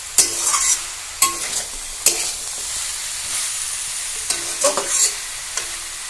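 A spatula stirs bottle gourd greens frying in a pan, several scraping strokes at irregular intervals over a steady close sizzle, with no voices.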